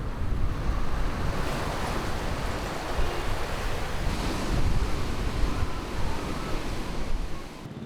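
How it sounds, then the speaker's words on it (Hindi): Ocean waves along the Mumbai shoreline wash in as a continuous broad surf roar, steady and fairly loud for several seconds with wind mixed in, easing slightly at the very end. "लहराती इठलाती समंदर की लहरें"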